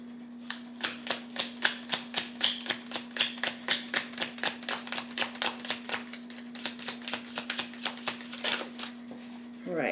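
Tarot cards shuffled in rapid, regular riffling bursts, close and crisp, over a steady low electrical hum.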